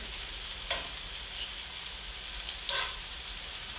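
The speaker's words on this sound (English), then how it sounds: "You add the oil, let the oil get really hot, and then you add whatever you're frying." A steady, soft sizzle of potatoes frying in hot oil, with occasional brief pops and crackles, heard close and without talk.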